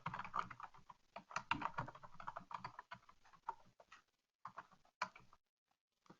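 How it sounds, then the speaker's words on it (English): Code typed on a computer keyboard, quick irregular clusters of close key clicks with short pauses, trailing off into near silence, no talking. "So let me type this as reduction."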